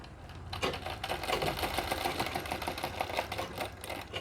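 A sewing machine stitching Nauvari saree fabric, a fast continuous rattling whir after a brief pause at the start, loud and close with a steady mechanical rhythm.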